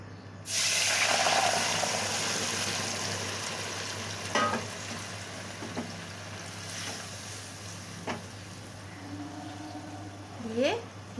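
Boiled broth poured into a hot wok of hilsa fish curry with potato and eggplant, starting with a burst of loud hissing sizzle that fades into softer bubbling, with scattered clinks and stirring sounds.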